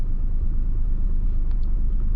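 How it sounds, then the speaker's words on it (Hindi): A manual car's engine idles in a steady, close, low rumble while the clutch is slowly released; the tone shifts only slightly, with no talking. "इंजन की ना हल्की सी जो है आवाज चेंज होने लग जाएगी"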